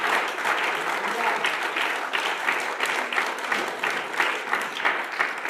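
A church congregation applauds loudly and continuously, dense clapping with no pauses, mixed with a few indistinct voices.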